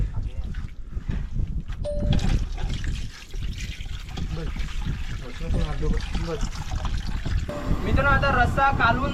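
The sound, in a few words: water being poured into pot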